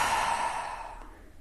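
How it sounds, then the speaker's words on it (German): A single deep exhale during a guided breathing exercise, a breathy sigh strongest at the start that gradually fades over about a second and a half, heard up close. "und atmen wieder aus."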